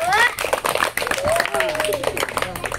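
Children clapping their hands during a school athletics game, a fast, steady patter of close claps running throughout, mixed with children's chatter and a singsong adult voice.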